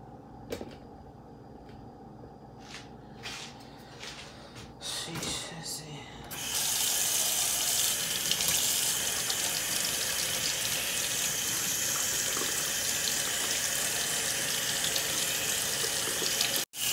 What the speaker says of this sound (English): I think I should run it under water.